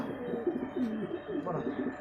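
A pigeon coos in low, soft, repeated warbling phrases, close by, with no other sounds competing.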